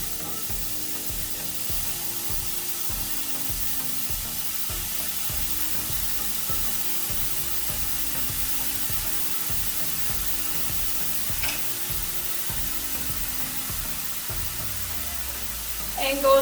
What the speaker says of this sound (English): I'm just going to be adding my veggies in and giving all of them a nice big stir